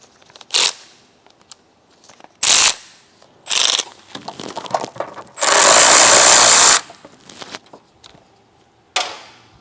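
A ratchet works loose 8mm bolts on a 2013 Ford Explorer, with several short bursts of rapid clicking and one longer sustained run, separated by quieter handling noises and no talking.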